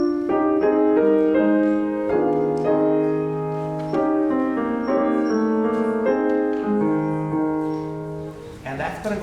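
Solo piano plays a soft, flowing figure from a Chopin ballade, repeated notes and gentle harmonies at an even, unhurried pace.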